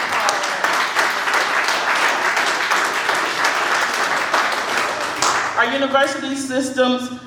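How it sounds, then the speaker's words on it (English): Audience at a union convention applauding during a president's address, a dense sustained round of clapping lasting several seconds before a voice resumes speaking. "Now that deserves a round of applause."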